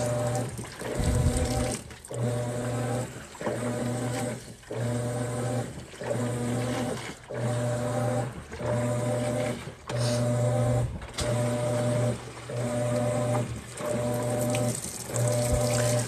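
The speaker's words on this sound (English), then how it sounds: "My washer fills as it goes, so eventually it'll be all the way up here." A top-loading washing machine filling with water during a laundry load, heard as a steady rush of water with a low mechanical hum that pulses in regular cycles about every second, with no talking.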